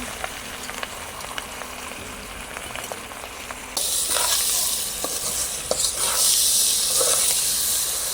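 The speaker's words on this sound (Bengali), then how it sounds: "চালটা হচ্ছে ভালো করে ভাইজা নিব" Polao rice frying in a pan with onion, garam masala, bay leaves and ginger paste, a steady close sizzle with stirring scrapes that jumps noticeably louder and brighter partway through.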